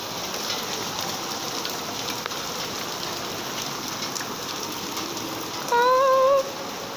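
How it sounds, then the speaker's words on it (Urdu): Heavy rain falls in a constant dense hiss on surfaces outdoors, steady throughout, with a brief tonal sound near the end. "یہ اندر تک آ رہی ہے فرینڈ بارش"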